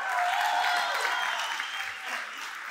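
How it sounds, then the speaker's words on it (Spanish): A studio audience at a live talk show gives a full, steady round of applause that fades slightly toward the end, moderately loud and heard alone without speech. "¡Fuerte el aplauso!"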